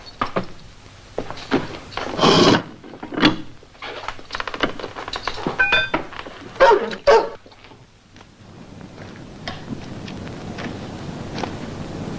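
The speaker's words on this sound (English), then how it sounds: "Dog's a bit restless." Restless dog barking repeatedly in irregular bursts with yips and whimpers, close and loud at first, then trailing off into quieter background noise.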